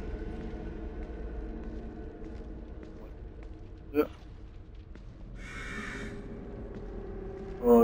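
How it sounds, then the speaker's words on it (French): Crow caws in The Evil Within 2, two or three short harsh calls over a steady low game ambience of rumbling drones, the loudest caw near the end. "tais-toi le corbeau"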